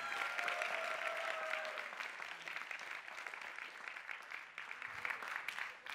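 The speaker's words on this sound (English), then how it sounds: "give yourselves a huge round of applause for stamina" A large audience at a science communication competition gives sustained applause, dense steady clapping that gradually thins toward the end, heard from within the hall.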